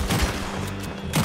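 Gunfire in Red Dead Redemption 2, a couple of sharp close shots at the start and another burst near the end, with a loud rumbling din in between and no speech.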